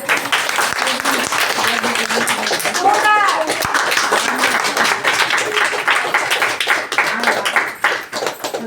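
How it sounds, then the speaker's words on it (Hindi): An audience at a cosmetic and skin care training session in Dehradun claps for a trainer, loud and steady throughout, with scattered children's voices and chatter mixed in. "अच्छा एक बार जोरदार ताली प्लीज वीना मैम के लिए हो जाएगा"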